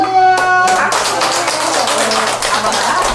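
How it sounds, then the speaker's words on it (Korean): A group at a senior community center claps hands together on cue, a quick burst of dense, overlapping claps that follows a short musical passage and continues steadily at close range. "자, 박수!"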